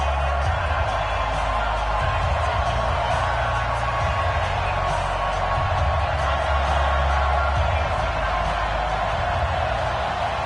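A stadium crowd in a Madden NFL game, London Black Knights against Washington Redskins, keeps up a constant loud roar of cheering, with a voice commentating over it.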